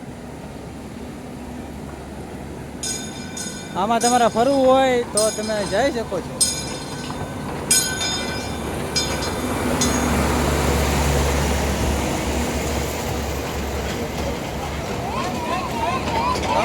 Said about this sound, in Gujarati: તમે આમાં તમને આખું ગોળ ચક્કર ફરાવે આ ટ્રેન